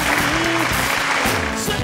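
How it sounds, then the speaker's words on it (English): Audience clapping their hands at a soul music show with a live band, steady dense claps for a couple of seconds over a sustained musical tone. "Y'all clap your hands."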